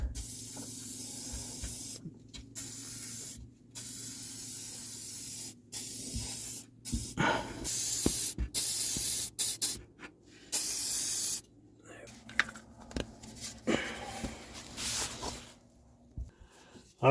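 WD-40 3-in-1 Professional penetrating oil sprays in several bursts of sharp, close hissing separated by short pauses, with talking between them.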